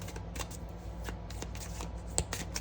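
A Silly Goose tarot deck being shuffled by hand, with a run of soft, steady papery riffles and card slaps close by, and no talking over it.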